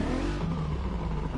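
A DeLorean DMC-12 engine in a video game holds a steady, loud rev, heard from the interior view with a continuous droning hum and no voices.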